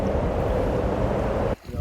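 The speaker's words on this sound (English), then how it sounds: "the waves gently lapping against the shore" Gentle waves lapping against a shore with wind moving through trees, a steady broadband wash that holds evenly and then drops away abruptly near the end.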